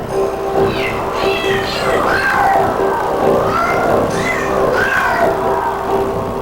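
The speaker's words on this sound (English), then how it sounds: "I was just experimenting and trying to make cats meowing into music" Several cats meow repeatedly over a steady sustained tone and dense musical backing, with cat calls worked into a continuous loud track as a musical experiment.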